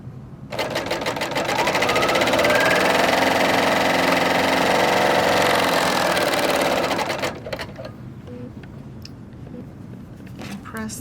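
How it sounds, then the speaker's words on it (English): A serger sewing machine stitches fabric pieces for a scrappy quilt, a loud, fast, steady mechanical whir running for about seven seconds before stopping, followed by quieter handling noises and light talk. "I'm going to sew this on right here."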